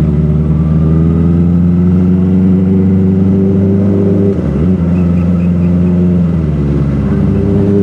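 Kawasaki ZX-25R Limited Edition motorcycle with quick shifter, its four-cylinder engine droning loudly and steadily at high revs, with brief dips in pitch as gears change, heard up close and continuous.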